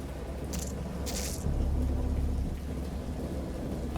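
Steady rain with rolling thunder in the Dagon visual novel game, a constant downpour hiss under a low rumbling swell that peaks midway, with a couple of brief bright crackles early on.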